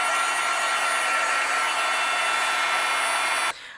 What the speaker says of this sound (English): Let's go ahead and melt the embossing powder.